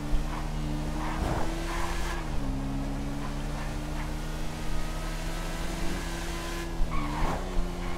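A motorcycle in GTA 5 roleplay brakes and skids, its steady engine drone dipping in pitch with short scraping tire noises on top, fairly close and with no talking.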